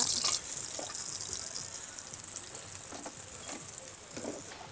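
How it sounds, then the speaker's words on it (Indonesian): Steady crackling sizzle of tempeh frying in hot oil, a constant bright hiss with small pops, close by and uninterrupted. "ini minyaknya udah panas, siap digoreng. Kita masukin tempenya"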